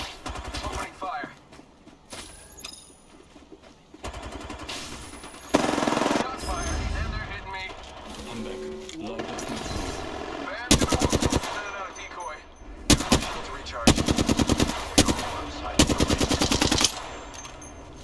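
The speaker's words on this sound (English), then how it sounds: "Opening fire." Automatic weapon fire from the Apex Legends video game comes in repeated rapid bursts, loud and close, with brief single shots and short pauses between volleys.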